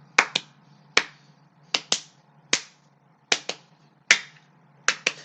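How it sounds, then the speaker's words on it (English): Two-beat claps repeated in quick pairs, crisp and close, with single claps mixed in, about a dozen strikes over a low steady hum, no talking. "Double claps"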